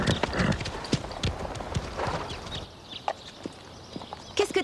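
Horses walk with a steady clip-clop of hooves, dense overlapping hoof strikes near and clear at first, thinning to scattered steps with no talking.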